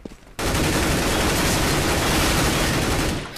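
An automatic rifle sprays in a CS:GO competitive match, a loud, continuous rapid burst of gunfire that starts abruptly after a brief quiet moment and runs for about three seconds.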